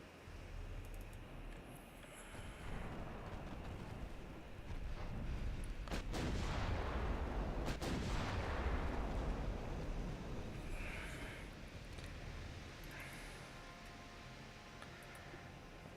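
Naval artillery thunders in a dreadnought-era sea battle in Ultimate Admiral Dreadnoughts, with heavy booming salvos swelling into a long rumbling roar before fading to a distant, windy wash.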